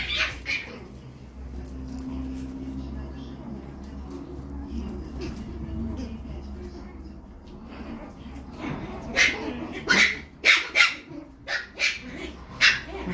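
Chihuahua and toy poodle puppies at a kennel yip and bark in a rapid cluster of sharp, close, high barks near the end, after a quieter stretch of low background hum and faint rustling; someone speaks softly.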